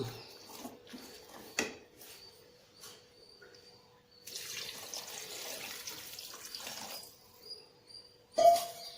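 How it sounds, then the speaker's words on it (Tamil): Water pours steadily for a few seconds into a pot of chicken curry, soft and close, between quiet kitchen clinks and a sharper clatter near the end. "கொஞ்சமாக தண்ணி விடுறேன் நான்"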